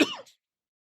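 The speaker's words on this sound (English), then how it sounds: "You think you'd cough and it'd go away, but it's still niggling." A single sharp cough close by, over within about a third of a second and followed by silence.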